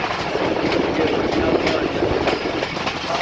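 Rehman Baba Express train rolling on the rails between Taxila and Rawalpindi, a loud continuous rumble with rhythmic clickety-clack of wheels over rail joints, heard close from on board.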